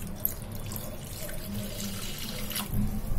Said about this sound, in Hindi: और उसके बाद अब हम इसमें पानी ऐड कर देंगे।